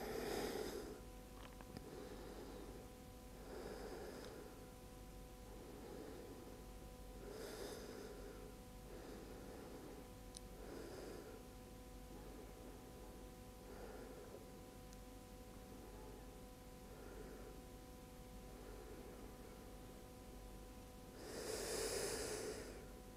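Slow, deep breaths during a gentle vinyasa yoga flow come in a steady rhythm every few seconds, soft and close over a low hum, with one louder, fuller breath near the end and no talking.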